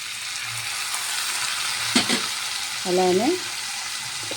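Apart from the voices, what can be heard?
tomato pieces frying and sizzling in a pan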